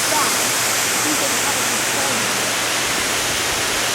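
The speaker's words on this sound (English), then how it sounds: "You can see the spillway there, quite unusually, there's water coming out of that." Water from a dam spillway pours steadily down into a valley, a loud continuous broadband rush like a waterfall that holds unbroken throughout.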